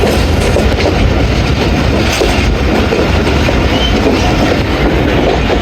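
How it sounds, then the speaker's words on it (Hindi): The 48 Down Rehman Baba Express pulls into Rawalpindi railway station. A loud, continuous rumble with clickety-clack of the wheels over the rails runs throughout, and no voices are heard. "48 डाउन रहमान बाबा एक्सप्रेस का अराइवल हो रहा है रावलपिंडी रेलवे स्टेशन पे।"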